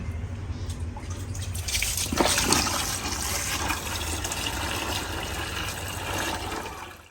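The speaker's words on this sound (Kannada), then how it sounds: "ಒಂದ್ಸರಿ ಸರಿ ನೀರು ಹಾಕಿ ಮತ್ತೆ ತೊಳಿಬೇಕಿದ್ನ" Running water splashes steadily while something is rinsed and swished in it, with a brief louder gush partway through.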